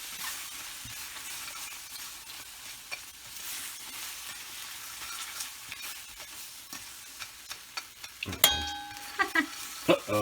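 Sugar caramelizing in a pan for homemade tapioca pearls is stirred with quiet scraping and a soft sizzle, and the sounds grow into sharper clinks and clanks of the utensil against the pan near the end.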